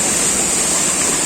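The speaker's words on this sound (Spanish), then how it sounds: "Vamos llegando, Alberto, una linda panorámica, la principal cascada que tiene acá la Unión de Chicaña." The main waterfall at La Unión de Chicaña in Yantzaza, Ecuador, gives a loud, steady, broadband rush of cascading water, close and continuous with no talk.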